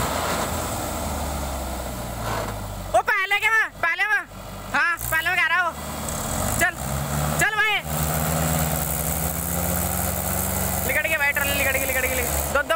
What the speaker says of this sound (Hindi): देख लो ट्रैक्टर कैसे जोर मार